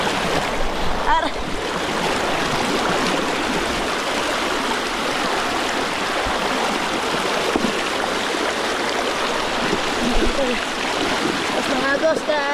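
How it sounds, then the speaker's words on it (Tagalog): A strong river current rushing steadily, a loud broad wash of flowing water that fills the whole scene, with voices talking intermittently over the roar. "Ang lakas ng agos."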